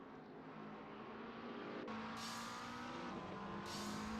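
A number 44 McLaren race car drives on a track with a steady, loud engine tone that shifts pitch as it runs, accompanied by broadband road and wind noise, with no voices.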